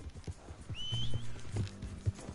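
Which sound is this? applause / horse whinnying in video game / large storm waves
horse whinnying in video game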